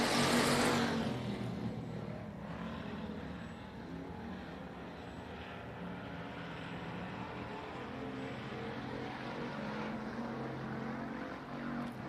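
Pure Stock race cars running a heat race on the dirt oval at Texana Raceway Park, a dense, continuous engine roar from several cars that swells slightly and holds steady at a moderate distance, with no talking over it.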